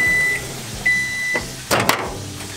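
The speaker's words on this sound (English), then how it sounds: "I'm just gonna toss it in the microwave." A microwave oven hums steadily while heating walleye, a few short electronic beeps sound, followed by a couple of door clunks.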